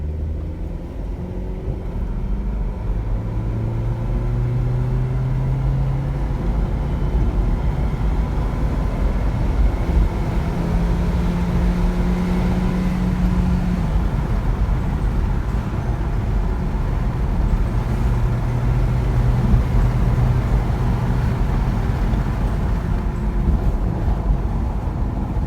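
A car out on the road during a test drive after its turbo boost pressure control has been adjusted, giving a steady low engine and road rumble that holds constant throughout, with no voices.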